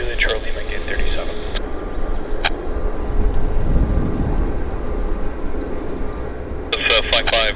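An aircraft on approach at Vancouver Airport gives a steady, broad engine roar throughout, with radio voices heard at the start and end.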